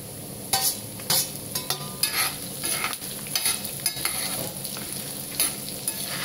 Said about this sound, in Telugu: వేగాక జీలకర్ర, ఎండుమిర్చి కూడా వేసేద్దాం